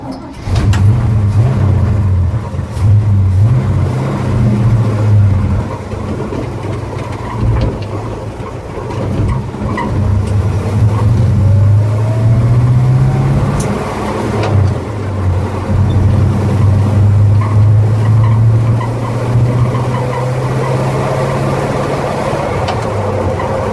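A 1953 Chevy pickup, back on the road after 26 years off it, drives with its engine droning loudly and revving up and down in repeated waves, close and continuous with no talk.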